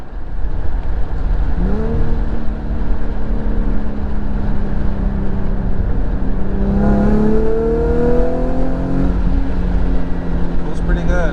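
A 2013 Infiniti G37 sedan with aftermarket test pipes revs hard several times, its exhaust note rising and falling in sweeping pitch runs, loud and close over a steady idle.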